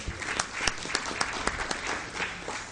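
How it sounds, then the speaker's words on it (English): A small gathering at a chartered accountants' study circle claps to welcome a guest speaker, a fairly quiet, thin patter of applause with individual claps standing out, continuous throughout. "extend a hearty welcome to Dr. Ahuja with a thunderous round of applause"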